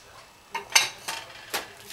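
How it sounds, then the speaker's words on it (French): Flour and sugar being mixed in a bowl: a spoon or whisk clinks and scrapes against the bowl in four or five short, close knocks spaced across a couple of seconds over quiet. "À cette étape-là, je vais mélanger la farine,"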